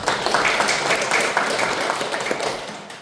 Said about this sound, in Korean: 우리 오병석 감독님께 한번 박수 부탁드립니다